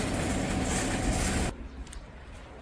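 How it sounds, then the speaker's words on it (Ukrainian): A metro station in Odesa with trains, a loud broadband rumble of a passing train that cuts off abruptly midway, leaving quieter station ambience. "Так, ось метро."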